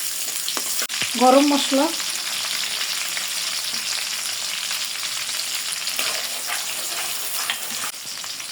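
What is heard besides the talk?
chopped onion frying in hot oil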